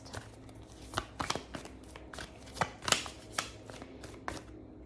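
A deck of tarot cards being shuffled by hand: a quiet run of papery riffles and sharp card snaps, uneven in rhythm and close to the listener.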